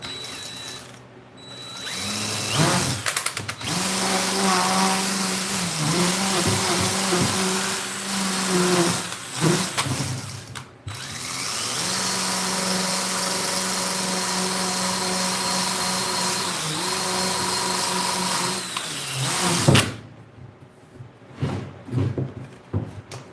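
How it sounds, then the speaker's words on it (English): A drill-driven sander whirs steadily for long stretches, grinding and buzzing up close on a bonsai build, stopping briefly a few times before starting again. "A drill-driven sander."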